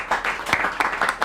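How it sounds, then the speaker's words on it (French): Brief applause from an audience at a school quiz competition in a hall: a short burst of clapping with a few distinct sharp claps, close and fairly loud. "On va applaudir pour Nzati, s'il vous plaît."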